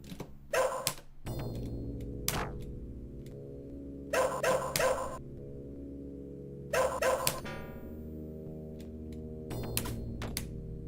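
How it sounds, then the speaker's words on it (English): Dog barking in a cave stage of the Shadow Dancer arcade game, several sharp bursts in clusters recurring every couple of seconds over a steady droning music bed. "Stop barking, Doug."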